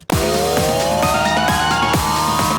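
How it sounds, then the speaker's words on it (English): A synth riser made in Ableton Live sweeps upward in pitch over a pulsing electronic beat with regular low hits, loud and continuous from start to end. "And that's your basic riser"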